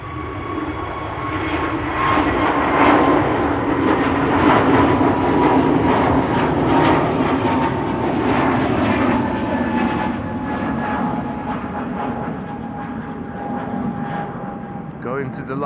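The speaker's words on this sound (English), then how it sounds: "There it is, KLM A321neo to Nice" A KLM Airbus A321neo jet departs Amsterdam Schiphol on a flight to Nice, its engines roaring loud and steady throughout with a broad rumble and whining tones that ease off slightly toward the end, with faint voices beneath.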